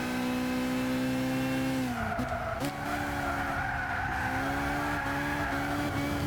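Tires squeal steadily as a car slides into a drift in the racing game Gran Turismo 6 during a time trial, with the engine droning loudly and continuously underneath, no voices.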